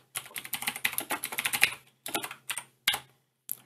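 Code is typed on a computer keyboard in fast, close bursts of crisp clicks, broken by short pauses and a final few keystrokes.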